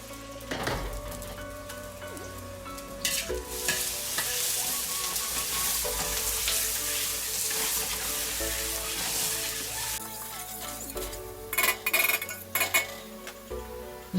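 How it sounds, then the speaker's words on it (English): Chopped onions fry in sunflower oil in a pot, sizzling loudly and constantly up close while a utensil scrapes and clinks against the metal as they are stirred. "Add the liquid sunflower oil to the pot and cook the chopped onions with stirring."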